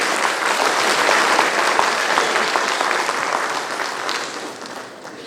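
Loud, dense applause from an audience welcoming a government official to the stage at an official appointment-letter ceremony, sustained for several seconds before fading slightly at the end.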